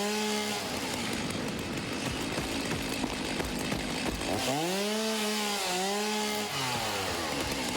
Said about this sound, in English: Besides, it's just fun to use the chainsaw.